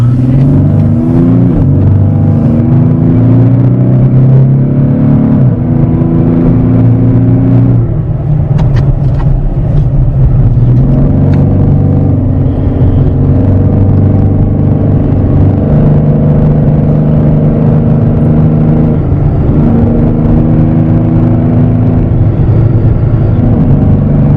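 A V6 car engine fitted with a cold air intake revs steadily, loud and close, with the pitch climbing and dropping through repeated rises over a continuous deep rumble.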